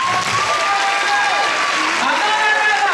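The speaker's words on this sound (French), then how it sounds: "Un tonnerre d'applaudissements pour Michel." A talent show audience claps for the winner, a full wash of applause that runs steadily throughout with voices and tones mixed under it.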